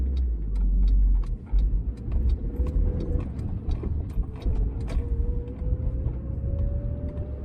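Triumph Mayflower car engine running on a road test, a steady low drone with a rising whine as it revs, close and fairly loud, with clicking rattles over the top and no talk.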